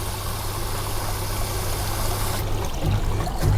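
Fertilizer flush water trickling and draining steadily out of the bottom of a plant pot, a continuous close watery dribble with a low hum beneath, a few brief clinks near the end.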